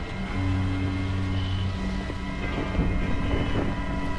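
Wind in the video game Dying Light, a steady roaring gust with low rumbling tones beneath it, continuous and fairly loud throughout.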